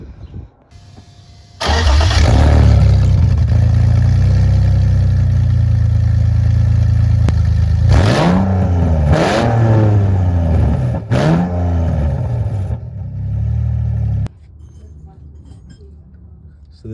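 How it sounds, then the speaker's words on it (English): A BMW engine with its exhaust removed cranks and fires, then roars loudly and raw, with several sharp revs rising and falling before it cuts off, and a short quiet tail follows. "once you remove the exhaust, you just got to start it"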